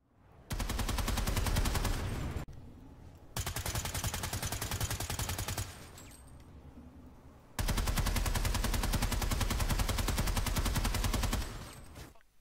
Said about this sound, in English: Now I'm gonna let you guys hear what this weapon sounds like unsuppressed, with suppressor, and finally the big badass with a compensator